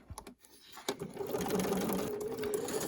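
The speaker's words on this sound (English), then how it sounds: "I'm going to start stitching wherever it's comfortable, as long as it's at or before where those lines intersect." A sewing machine stitches a foundation paper pieced quilt block, starting with a few short clicks and bursts before settling into a steady close whirring run of stitches.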